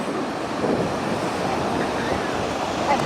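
Ocean waves at the sea wash in a steady broad rush with wind noise on the microphone, continuous and close.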